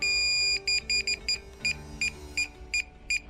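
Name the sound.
DJI Mavic Air 2 remote controller beeping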